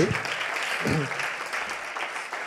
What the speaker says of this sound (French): Je vous demande d'applaudir Franck.